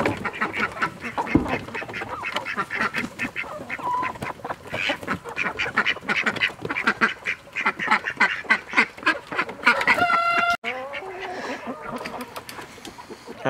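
A flock of ducks quacks continuously nearby on a homestead, a dense rapid chorus of overlapping calls, loud and close, ending with a few honking goose-like calls.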